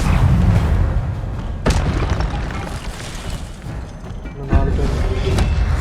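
Incendio fire spell cast in Hogwarts Legacy: two loud, sharp blasts over a dense, continuous rumble of game noise, each burst flaring suddenly before settling back into the busy background.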